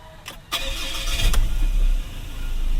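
The key turns in a 2018 Ford Ranger Wildtrak: a short starter crank catches into the engine firing, which then settles into a steady idle heard from inside the cab.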